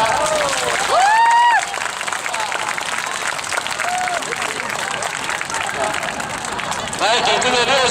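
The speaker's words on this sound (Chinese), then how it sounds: "来鼓掌来。" A crowd claps steadily at a 2014 anti-nuclear street march blocking a Taipei road junction, dense applause throughout with a whistle-like voice in the middle and people talking over it.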